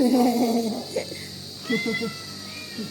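A cat meows several times close by, drawn-out plaintive calls spaced apart with short pauses in between, fairly clear against a quiet background.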